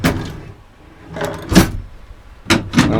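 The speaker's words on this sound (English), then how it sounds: "By the way, these are locking drawers." Locking storage drawers in a home-built truck camper slide open and shut, giving a few close, distinct knocks and rattles spaced across a few seconds with quiet gaps between them.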